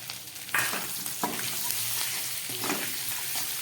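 Pre-fried potato pieces tipped into a hot pan for a vegetarian chana dal dhoka dish, with a loud sizzle and spatula stirring scrapes repeating over a steady frying hiss.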